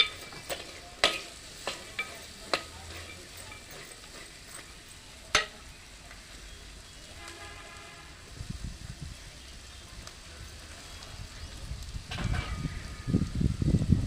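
Semiya upma with green peas gets stirred in a pan, a few sharp spoon taps at first, then a soft scraping and sizzling that builds toward the end, close and fairly quiet.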